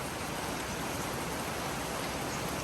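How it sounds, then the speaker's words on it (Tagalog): Steady, even hiss of rain falling continuously by an outdoor kitchen in the provinces, soft and unbroken, with no voices. "Dahil ulan."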